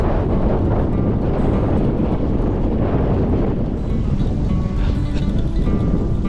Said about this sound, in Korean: 바람이 엄청 많이 부네요